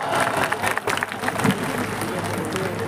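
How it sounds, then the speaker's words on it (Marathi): Audience applause at a public event in Chhatrapati Sambhajinagar honouring a state minister, dense clapping with crowd noise that dips briefly then continues steadily, while a voice speaks over it. "जोरदार टाळ्या।"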